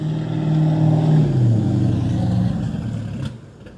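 A Hot Wheels rally race car pulls away from a standstill at a Los Angeles car and lowrider show, its engine a loud deep roar that shifts pitch as it accelerates off, then fades.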